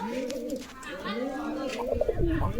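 Pigeons for sale coo in repeated throaty, rising-and-falling calls close by, with a few overlapping birds and some brief knocks and rustles near the end.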